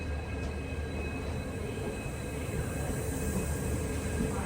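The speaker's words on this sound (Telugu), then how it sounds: "ఇటు ప్లాట్ఫామ్ లో ఇంకొక ట్రైన్ ఉంది." A train sits at a railway platform on a journey from Jodhpur to Jammu, a steady low rumble and hum filling the air without pause, no voices present.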